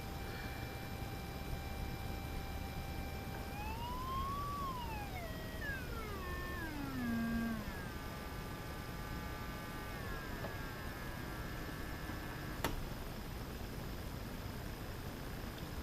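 A test tone from an audio signal generator plays through a field coil speaker via its output transformer, holding steady, gliding up, then sweeping downward in steps, loud and continuous under a constant hum, with a brief click near the end.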